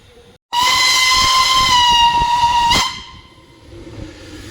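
A steam locomotive in Maramures, Romania gives a loud, close whistle blast lasting a little over two seconds, then fades into quieter steam hiss.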